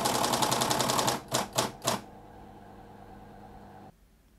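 An electric typewriter hammers out a fast, even burst of repeated strikes using its repeat action key to underline text, then three separate clacks follow. After that comes a fading mechanical hum.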